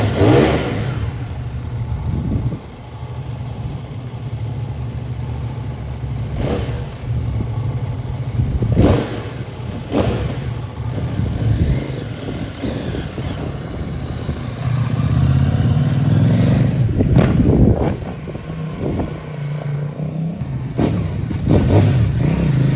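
A 2024 CFMOTO 800NK motorcycle, rated at 100 horsepower, revs repeatedly, its engine note swelling and dropping in close, loud bursts over a steady idle for the whole stretch.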